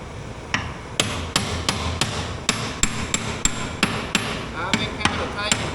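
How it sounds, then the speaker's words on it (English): A hammer taps repeatedly on the shafts of a corn header to loosen parts, a run of sharp, close metallic strikes at an irregular but steady pace, about a dozen blows over several seconds. "taking that hammer there and tapping it and trying to loosen them up a little on them shafts"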